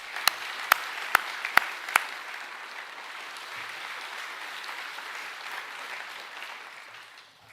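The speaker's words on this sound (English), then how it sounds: "we might just give all those special award winners one more round of applause" An audience at an academic awards presentation evening applauds special award winners, a steady wash of clapping with a few sharp claps near the start, fading out at the end without talk.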